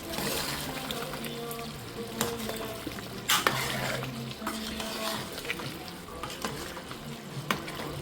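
A spoon stirs cluster bean curry in a pan, giving soft scraping and clinking strokes over a gentle simmering sizzle, close and moderately quiet with no talking.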